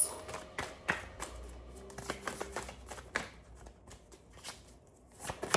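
Tarot cards are shuffled in quick, soft riffling bursts with light taps, close and fairly quiet.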